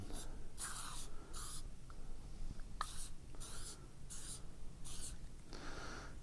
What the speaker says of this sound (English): Spray it, just lightly spray it.